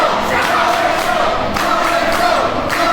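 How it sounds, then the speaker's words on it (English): A wrestling arena crowd chants Kenny Calypso's name, a loud, steady roar of many voices with rhythmic swells, filling the space continuously from start to finish. "the Premier Arena is ringing with the chant of Kenny Calypso"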